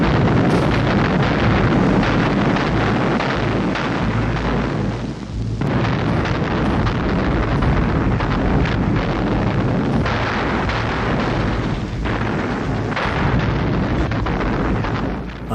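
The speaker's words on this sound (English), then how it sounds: "But these were our shells, artillery preparation for our operation." Soviet artillery fires a preparatory barrage at Leningrad in January 1944, a loud, dense, continuous roar of gunfire and blasts that runs without pause throughout.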